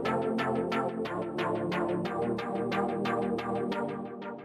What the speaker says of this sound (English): the first sound I have here is this chord synth